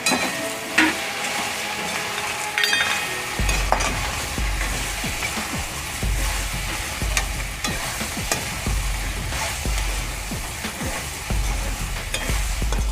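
Dhokla tempering with oil, mustard seeds and curry leaves, a loud, steady sizzle and crackle of hot oil that starts abruptly and continues without a break, with scattered pops and stirring clatter.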